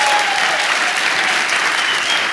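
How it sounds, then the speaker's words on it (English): Another round of applause for youth campaigners after a spoken word performance, dense and even clapping from the crowd, loud and continuous throughout the short stretch. "please can we give another round of applause?"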